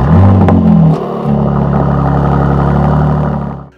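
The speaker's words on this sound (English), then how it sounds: "you press the start button again and the engine will start up" Mercedes engine cold start with exhaust valves: a loud starter whir and catch into a sharp rev flare, then dropping to a steady, rumbling idle that fades out near the end.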